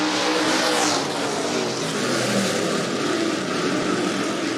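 Stock cars roar together in a heat race at a speedway, a dense, loud wash of engine noise with a passing sweep early on and a continuous blended drone throughout.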